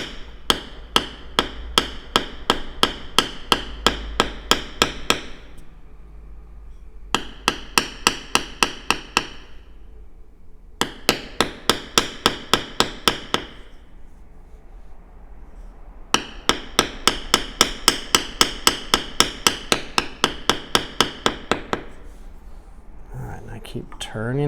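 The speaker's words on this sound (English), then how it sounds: "as I tap that tool, every time I'm tapping it, I'm moving it slightly" A metal bevel tool is struck against leather with rapid, evenly spaced taps, in four bursts separated by short pauses while a soft voice talks underneath.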